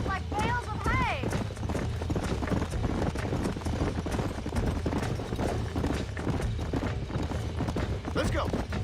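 Steady clip-clopping hooves from several horses in Red Dead Redemption, with a whinny near the start, under a voice talking throughout.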